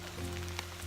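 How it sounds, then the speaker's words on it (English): Rain falling steadily on a misty, dark section of the Superior Hiking Trail, a soft continuous patter close by with no voices. "it's still raining"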